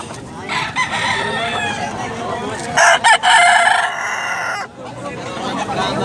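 Rooster crowing at a busy chicken farm in Tabunok, Cebu, one loud close crow in the middle, with other hens clucking and faint talk in the background.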